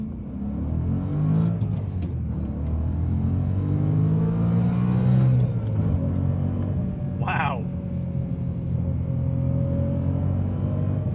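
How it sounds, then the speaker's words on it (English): A 2011 BMW M3 E92 Competition accelerates hard with a loud engine roar and a rising mechanical whine from the differential, as a person briefly exclaims over the noise. "That diff is so loud every time you get on the power with that whine."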